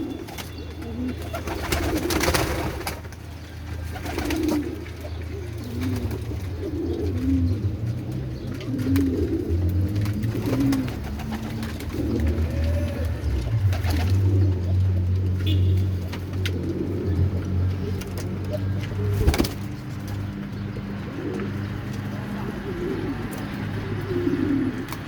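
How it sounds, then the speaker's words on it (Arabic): Pigeons coo steadily in a low, murmuring chorus at a place where they are being fed and drinking, with occasional wing flutters and knocks, plus faint background noise. "حمام بيشرب هناك اهو"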